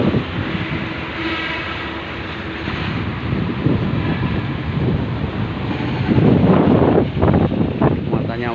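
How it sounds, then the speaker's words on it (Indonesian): Strong wind roars across the microphone on the deck of a ship carrying trailer trucks, with a constant loud rumble and rushing wash of waves that swells toward the end. "sama anginnya juga kencang."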